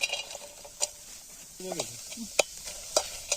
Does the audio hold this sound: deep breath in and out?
no